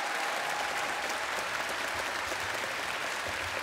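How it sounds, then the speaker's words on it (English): Warm, sustained applause from a concert audience at an orchestral game-music performance, a dense even patter of many hands clapping steadily throughout with no break. "please let's give them your huge warm applause."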